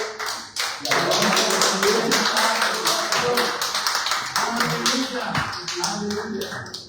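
A church congregation breaks into loud, sustained applause, a dense crackle of many hands clapping that swells and carries on for several seconds, with voices calling out beneath it.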